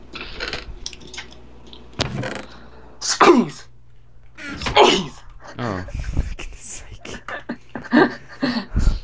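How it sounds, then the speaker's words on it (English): A single sneeze bursts out close by amid quiet conversation, with people talking around it and small handling noises in the room. "I just sneezed."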